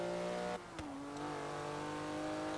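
Porsche Cayman GT4 flat-six in Forza Horizon 3 on a circuit: a sustained engine note drops sharply at a gear shift, then holds a steady, strong drone, close and alone.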